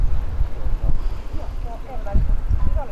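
Gusty sea wind on a blustery day at a seaside yacht harbour rumbles and buffets the microphone steadily throughout, loud and low, with a voice talking over it.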